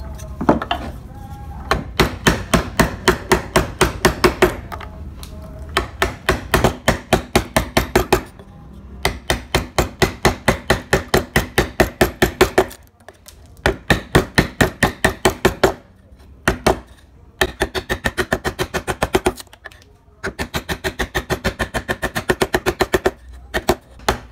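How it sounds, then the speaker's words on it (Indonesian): Gouge chisel cutting a concave hollow into a wood carving, a long run of sharp rhythmic taps from a mallet striking the chisel, close and loud, in bursts separated by short pauses. "kita cekungkan ke dalam menggunakan pahat kol"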